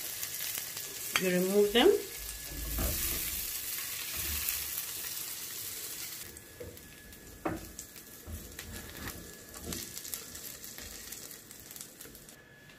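Onions fry in a pan at moderate loudness with a soft steady sizzle, while a voice speaks briefly near the start and a few utensil clicks and scrapes punctuate the frying.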